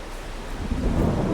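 Rain falls with a deep rumble of thunder building underneath in the farming game Farming Simulator 22, a steady dense patter swelling louder toward the end, with no talking.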